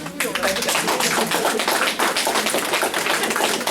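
Sustained crackling applause from an audience at the prize-giving ceremony of the 35th Aigle de Nice International 2023. It is dense and steady throughout, with a voice faintly present underneath.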